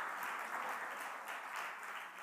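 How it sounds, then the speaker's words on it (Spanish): Church congregation applauding, a short steady burst of many hands clapping at moderate distance, fairly faint and without talk. "Denle un aplauso al Señor"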